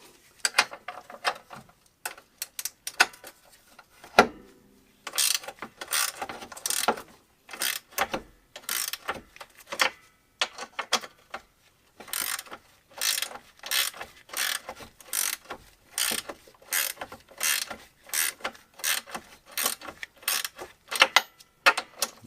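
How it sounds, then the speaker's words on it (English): Ratchet wrench tightening bolts on the front A-arm of a 2006 Polaris Sportsman 700 ATV, repeated clicking pulls in irregular bursts, close and distinct with no talk. "Trying to tighten this side down pretty good before I can try to take the other side off."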